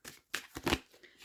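Tarot cards are shuffled in a few quick papery bursts, close and fairly soft, with short pauses between the riffles and no talking.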